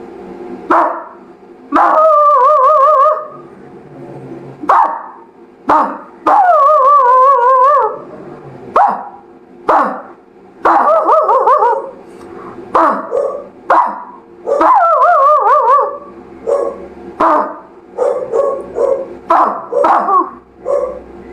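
A mimicry artist on stage at a mimicry show voices a dog barking: a string of loud, close, yelping and howl-like barks in uneven bursts with short gaps between them.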